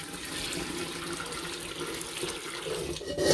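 Hot tap water runs steadily from a faucet, a continuous close rushing hiss while a container is filled for washing fleece, with no talking.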